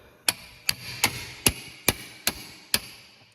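A socket being hammered onto a rusty wheel bearing bolt on a 2010-2022 Lexus RX350 AWD, right rear: seven sharp metallic taps at a steady, even pace, close and fairly loud with no talking.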